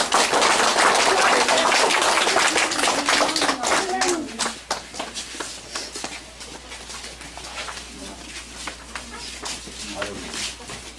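A crowd at a prayer service in an indigenous village in Mato Grosso claps for the pastor, loud, close and fairly rhythmic, thinning gradually while voices carry through it.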